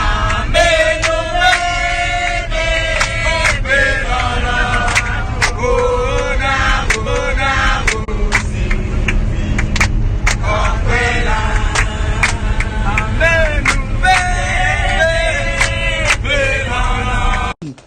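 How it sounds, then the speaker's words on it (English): Loud group jama singing fills the inside of a moving car in Ghana, with many voices chanting together in a steady rhythm over a constant low road rumble. "Listen to the Jama in the car on our way."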